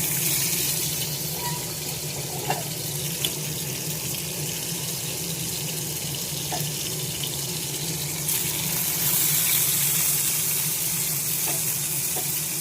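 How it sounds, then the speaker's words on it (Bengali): Fish frying in hot oil in a home kitchen, a steady, loud, continuous sizzle and hiss close up, with a few faint clicks and no pauses. "দেখো, মাছ তেলটা গরম হয়ে গিয়েছে, মাছগুলো সব ভেজে নেব।"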